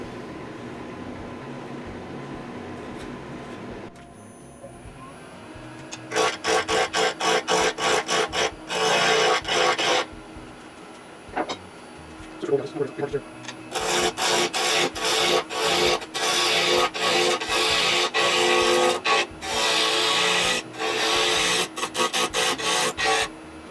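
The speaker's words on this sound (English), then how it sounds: "I'm going to get a spindle gouge and we'll get started shaping the outside." A spindle gouge cutting cherry wood on a lathe while shaping a bottle opener: after a quiet motor hum, loud bursts of rough, rasping cutting come in repeated passes, close and dominant, with no speech.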